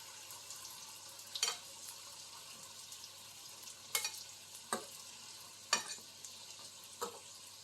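Quiet, continuous sizzling of pişi dough frying in hot oil, with occasional sharper crackles and pops rising above the hiss.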